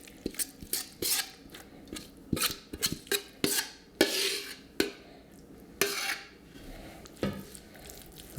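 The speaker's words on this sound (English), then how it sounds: "So let's go ahead and add our stuffing into our cast iron." Stuffing spooned into a greased cast iron skillet: repeated close scrapes, taps and soft wet thuds of a spoon against the pan, irregular and fairly loud, with no talk.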